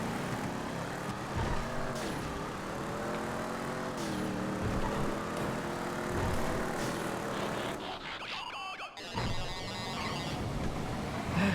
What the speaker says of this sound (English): The noises the space docker makes.